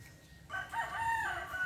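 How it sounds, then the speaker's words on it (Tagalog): A rooster crows once in the yard of a provincial Philippine home beside a small vegetable garden, a clear mid-level call with a drawn-out, wavering tail over a faint low background hum. "Yan mga manok."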